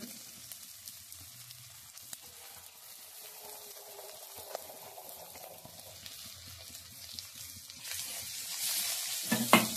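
Chopped onions with ginger fry in oil and are stirred in a pan, a soft steady sizzle with occasional scraping that swells louder near the end.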